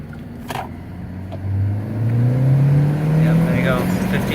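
Cabin sound of a 2015 Hyundai Sonata Eco with a 1.6-litre turbo engine accelerating on the road, its low engine drone rising steadily in pitch, with a brief voice early on.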